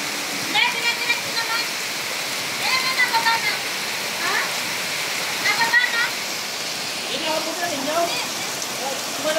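Heavy typhoon rain and rushing floodwater in a storm, a steady loud wash of water and rain filling the whole stretch, with voices talking faintly beneath it.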